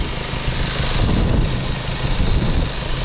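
A Mercedes-AMG 220d 4matic turbo diesel idles nearby, a dense, steady engine rumble with a faint knocking texture and no voices.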